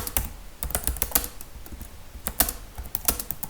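Typing on a computer keyboard while entering code in an Odoo tutorial: irregular bursts of crisp, close key clicks with short pauses between them, with no voice over them.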